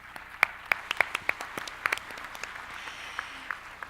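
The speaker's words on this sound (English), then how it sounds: "please give them another big round of applause" Scattered clapping from a small audience after a roundtable panel discussion, individual sharp claps at an uneven rhythm that thin out and fade toward the end.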